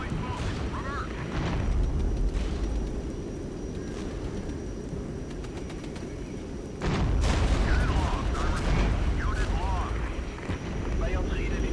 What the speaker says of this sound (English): The strafing runs hit the right target, at least.